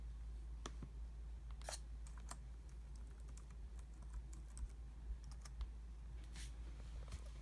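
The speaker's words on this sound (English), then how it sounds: "While she's typing her summary" Typing on a laptop keyboard, with a steady run of light, irregular key clicks and a few sharper taps over a low, constant background hum.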